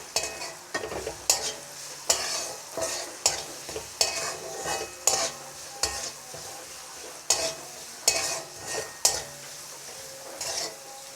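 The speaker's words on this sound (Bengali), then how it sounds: "এখন আমি আরও কিছুক্ষণ ভেজে নেব।" Ginger-garlic paste frying in a pan with a spoonful of salt and turmeric powder, heard as a steady sizzle broken by regular scraping stirs of a spoon against the pan, close and fairly loud, with no voices.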